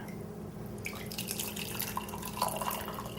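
Steeped thyme tea drains from a vessel, a steady close splash and trickle of liquid with drips scattered through it, no voices.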